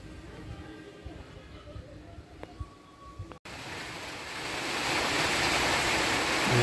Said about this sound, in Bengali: বৃষ্টি শুরু হয়ে গেছে, এখন জোরেই বৃষ্টি হচ্ছে।